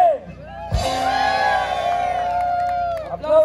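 A crowd at a jaripeo rodeo and dance in San Luis Potosí, Mexico, bursts into loud whoops and cheers after a short thump, sustained for a couple of seconds before fading as a voice returns.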